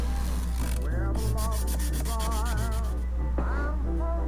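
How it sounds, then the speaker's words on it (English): Steady scratchy rubbing of sandpaper on the corners of wooden furniture drawers in short back-and-forth strokes, close and continuous, with no talking. "now we're going to finish sanding the corners of the drawers."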